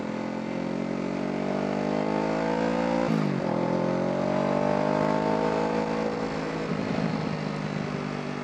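A 650cc two-cylinder motorcycle engine revs steadily and loudly, its pitch climbing and falling through several rises, with a brief dip near the middle and a throttle change toward the end.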